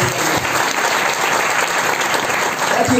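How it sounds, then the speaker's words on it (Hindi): An audience at a Holy Spirit seminar in Haryana and Punjab claps in dense, sustained applause for three seconds, loud and close, filling the room without pause. "हाँ, ताली बजाएंगे मीनू सिस्टर की"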